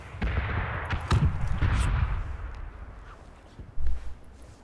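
Burst-fire gunshots in the battle royale video game PUBG, several short volleys of muffled, booming shots at mid distance over game ambience.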